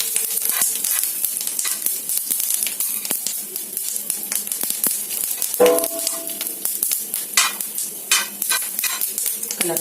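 Sunflower and safflower seeds roasting on a low flame in a pan, a continuous dry crackling sizzle with scraping and stirring rattles throughout, close up, with no voices.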